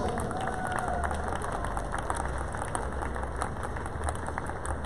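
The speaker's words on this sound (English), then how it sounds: "Round of applause, please," Applause from a crowd at an FCI dog show's best-in-show winners' moment, a dense steady wash of clapping mixed with crowd noise and a low rumble, sustained throughout without clear talk.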